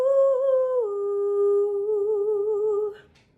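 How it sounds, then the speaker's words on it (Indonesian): Singer demonstrating light, high head voice, holding a clear sustained tone with gentle vibrato that steps down slightly midway, heard alone and fairly soft before fading out. "head voice itu adalah suara yang dihasilkan dari resonansi di bagian kepala atau rongga atas"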